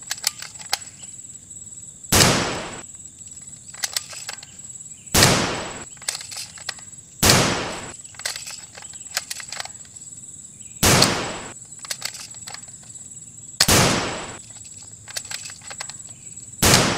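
Gunshots from a mobile gun video game, fired from weapons including a shotgun and a Cobra M4: six sharp, loud blasts at irregular intervals over a steady high electronic whine, each followed by brief clicks and rattles.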